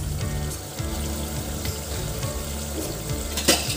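Meat for corn rice chicken biryani sizzles and spits in a pan over a high flame, a steady close hiss of frying with watery crackle throughout, with no talk.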